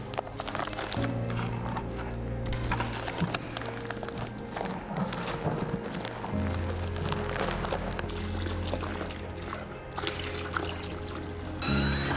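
Water poured steadily into a bag's worth of Surecrete concrete mix, a continuous close pouring and trickling sound with low mixing rumble throughout, no talking.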